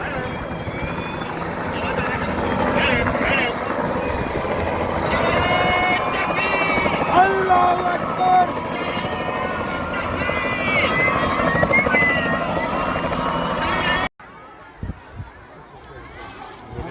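A helicopter near a crowd gives a loud, steady rotor drone for most of the stretch, with people's voices mixed underneath, before it cuts off abruptly into quieter crowd noise.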